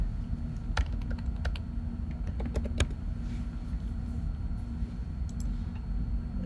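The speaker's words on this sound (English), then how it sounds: "Change this text to white, click OK, and I'm going to type Neil Thorpe" Typing on a computer keyboard, a quick run of light key clicks in irregular bursts over a steady low background hum, with no voices.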